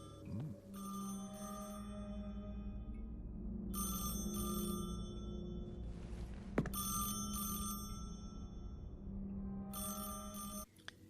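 An electronic telephone bell in the video game Post Trauma rings in repeated bursts with short pauses between, clear and close over a low ambient hum.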